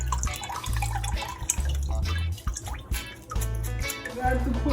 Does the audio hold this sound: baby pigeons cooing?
no